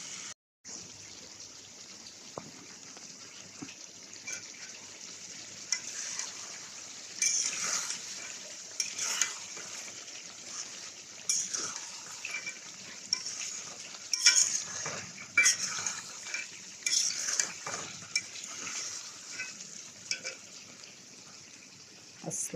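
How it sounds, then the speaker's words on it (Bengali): Eggplant, potato and fish cooking together in a pan: a faint ongoing sizzle with intermittent clatter of a utensil against cookware, scattered stirring knocks, moderately close and fairly quiet. "অনেক দিন পর রান্না করছে বেগুন, আলু, মাছ"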